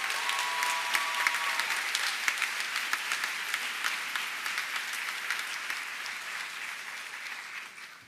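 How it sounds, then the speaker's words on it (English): An audience at a foundation luncheon applauding its donors, sustained even clapping from a roomful of people that gradually thins toward the end. "One last round of applause for all of our donors."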